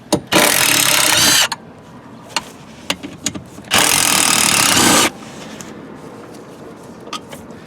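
A power tool loosens 10mm bolts holding a passenger seat in a 2002 Suburban, with two loud buzzing bursts of about a second each and light clanks and handling noise between them.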